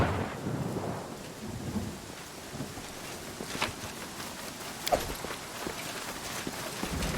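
Thunderstorm in the fantasy game Pathfinder: Kingmaker, a low rolling rumble of thunder under steady rain, with a few sharper cracks and some faint step-like taps.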